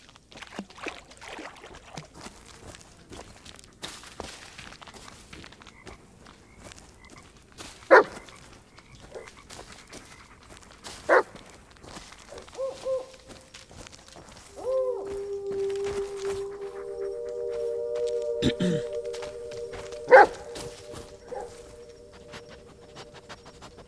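In the Blair Witch video game, a dog barks a few scattered, sharp times over a faint rustling outdoor ambience, with a sustained tonal hum rising partway through and no speech.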